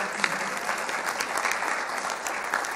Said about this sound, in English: Yeah, you can clap at that.